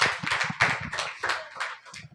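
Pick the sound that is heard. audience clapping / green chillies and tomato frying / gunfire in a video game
audience clapping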